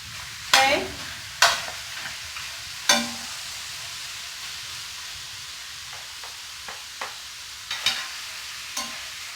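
Ground turkey cooking in a hot pot, with a faint sizzle beneath a series of sharp scraping stirs that come a few seconds apart and then grow smaller and closer together.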